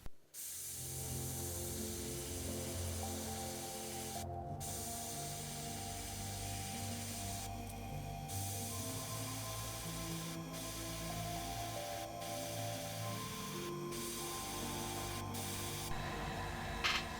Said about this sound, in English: I got transparent black loaded up in the airbrush, thin just a little bit, and then I'm running right at 20 psi